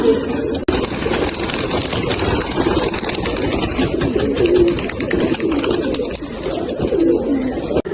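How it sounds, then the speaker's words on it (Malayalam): Pigeons coo steadily in a loft after being let out of their cages, soft repeated low coos layered over a constant background hum, with a few louder calls standing out near the middle and end. "അപ്പം നമ്മുടെ എല്ലാ പ്രാവുകളും നമ്മളിതാ തുറന്നു വിട്ടിട്ടുണ്ട്"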